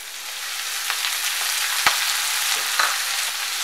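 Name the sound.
fenugreek vegetable frying in oil, being stirred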